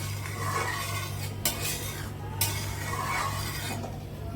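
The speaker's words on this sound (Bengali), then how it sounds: "ডাল যত ঘুটে ঘুটে তৈরি করা হবে তত ভিতর থেকে টেস্ট বেরিয়ে আসবে" A spoon stirs and mashes red lentil dal in a cooking pot, a steady scraping and sloshing with a few sharper clinks of metal against the pot, close and moderately loud, no voices.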